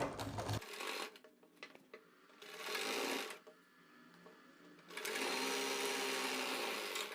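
A sewing machine stitches the center seam of a palazzo in short bursts of close, buzzing needle chatter, with brief stops between runs.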